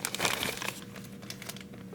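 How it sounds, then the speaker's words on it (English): Close, soft crinkling of the plastic bag holding a Spikes Tactical ST-T2 heavy rifle buffer, a burst of rustles at first and then lighter scattered crackles, with no voices. "It just comes in this plastic bag."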